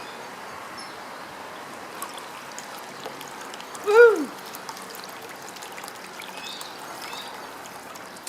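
A solar-powered pump pushes water up through an aviary pond, giving a soft continuous trickle with one louder gurgling burst midway; a voice briefly cheers.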